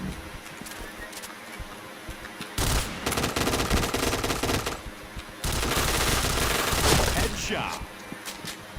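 Gunfire in the shooter game Point Blank: two long stretches of loud, rapid automatic fire with sharp repeated shots, separated by quieter background game noise, with players talking.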